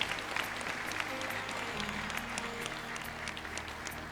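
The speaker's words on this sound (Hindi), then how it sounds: "जोरदार तालियां हमारे प्यारे गुरुदेव के लिए।" Enthusiastic applause from a gathered audience at a spiritual satsang for a guru, steady many-handed clapping heard at moderate distance and low level throughout.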